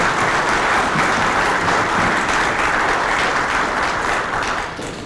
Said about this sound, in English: Let's give these applause.